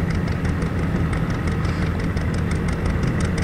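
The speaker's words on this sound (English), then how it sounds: "Another putt-putt of the John Deere." Antique John Deere tractor at a plow day, its engine putting along in a steady rapid rhythmic chug, close and continuous with no talking.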